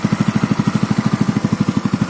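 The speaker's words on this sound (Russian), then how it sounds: "Мотор, как всегда, из последних поколений работает четко, ровно" A 2018 Dingo T150 New snowmobile engine runs steadily and evenly, with a close, loud, rapid rhythmic putter of about nine even pulses per second and no talk over it.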